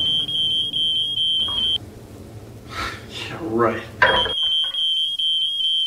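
A smoke alarm set off during cooking beeps in a rapid, piercing, continuous pattern, cuts out for a couple of seconds while a person gasps and speaks, then resumes just as loud.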